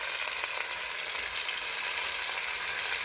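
Potato pieces seasoned with salt and turmeric fry in hot oil, giving a steady, even sizzle with fine crackling texture, close-up and consistent, with no voices.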